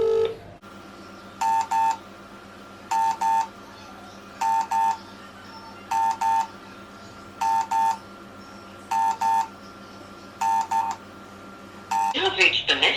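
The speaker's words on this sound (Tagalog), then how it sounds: "I'm gonna give them a call just to make sure before I go." A phone call to a post office rings out over the line, with eight evenly spaced double-tone ring bursts at a steady rhythm before a brief burst of other sound at the end.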